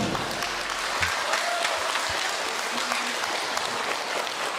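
Wedding guests break into steady, dense applause for Ukraine's Armed Forces, a crowd of hands clapping continuously at an even level for several seconds, with scattered voices mixed in.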